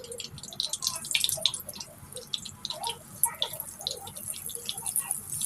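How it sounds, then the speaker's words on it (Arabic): A flour-dredged breaded cutlet fries in hot ghee in a pan, crackling and spitting in busy, close bursts of popping, with no one speaking. "اسخن السمنه حلو كده، وانزل بالبانيه بتاعي اللي انا بدرته بالدقيق"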